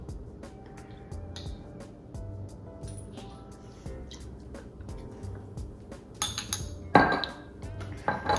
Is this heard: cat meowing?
no